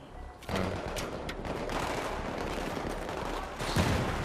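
Gunfire in the video game Battlefield 3, dense overlapping bursts of shots and explosions from several directions that run continuously and loudly, with no talk.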